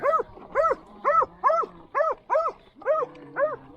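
Close, loud barking from an excited farm dog, eight evenly spaced barks in a steady rhythm with little else around them.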